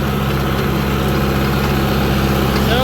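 A tractor engine idles on a farm before running a rotary rake, a loud, steady low rumble that holds level throughout with no pauses.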